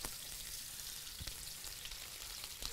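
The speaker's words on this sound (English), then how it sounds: "he's gonna make that perfect wok sound." A steady, close sizzle of onion frying in a wok over high heat, with faint scraping under the hiss and no voices.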